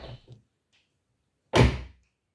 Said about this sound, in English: You can now shut all 4 doors.